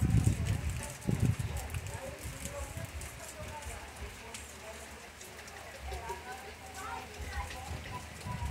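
Rain falling during a storm in Brazil's Northeast, a steady broadband hiss of drops on surfaces throughout, with a louder low rumble near the start and people talking over it.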